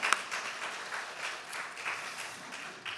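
A church congregation at a Korean Presbyterian Sunday service claps for a standing guest, a soft, even patter of many hands sustained throughout, heard from a distance in a reverberant room.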